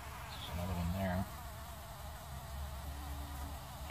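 Bumblebees buzzing around their nest outdoors, a close droning hum that swells as one passes near the start, then steadier buzzing from several bees against faint background noise.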